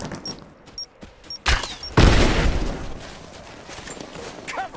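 Gunfire in the action game Rise of the Tomb Raider: a few short clicks and sharp shots, then a heavy burst of rapid fire and a booming rumble that trails off, with scattered later noises.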